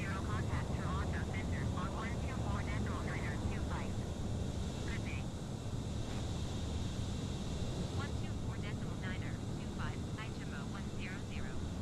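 A plane flies steadily in a video game, giving a constant airy engine roar with rushing wind noise that carries on throughout, while a voice talks over it.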